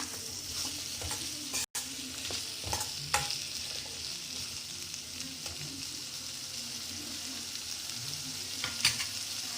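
Carrot sabzi stir-fries in a pan with a soft, continuous sizzle and intermittent scraping strokes from stirring, fairly quiet and close, with a brief sharp clink near the start.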